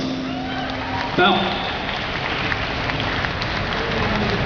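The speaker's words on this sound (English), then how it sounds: "let's give him a round of applause" Audience applause fills a crowded convention hall at New York Comic Con after a kendo demonstration, a steady broadband clatter of clapping throughout, with a brief spoken word near the start.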